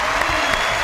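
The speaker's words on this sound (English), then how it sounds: "let's give him a round of applause for that" Brief burst of audience applause at a televised talk show, dense clapping for a guest praised for his low-carbon vegan diet.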